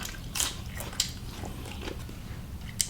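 Someone bites and chews Lao beef stew aw seen with gai lan leaf and scallion, giving a few soft, wet close-up bites and squishy chews with quiet gaps between them.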